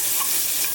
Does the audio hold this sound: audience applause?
no